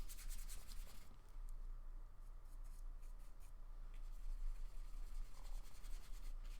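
A paintbrush rubs over paper, laying down light blue paint in a soft, continuous scratchy swish close up, with faint quiet strokes and no speech.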